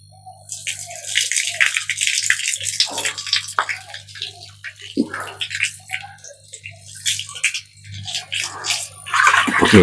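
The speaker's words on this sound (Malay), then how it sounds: "saya akan masukkan air pipe" Tap water pours from a pipe into a tilapia fish tank on a small home farm, giving close, uneven splashing and rattling bursts over a steady low hum for about ten seconds.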